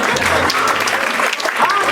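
Applause at a volunteer gala fills the room for two seconds, a dense, steady patter of many hands clapping close by, with a voice or two mixed in underneath.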